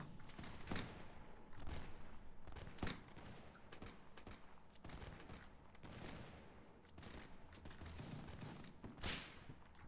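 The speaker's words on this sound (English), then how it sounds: "they are shooting at me" Enemy soldiers in a Napoleonic-era Mount&Blade battle fire musket volleys at the player, a scattered series of sharp cracking shots, some near and loud and others more distant, spread irregularly across the whole stretch.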